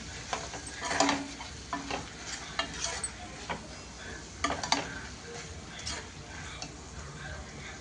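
Ginger garlic paste frying with onions and tomatoes in a pan for an egg and raw prawn curry: a low steady sizzle punctuated by repeated sharp spatula taps and scrapes against the pan, close up and unaccompanied by speech.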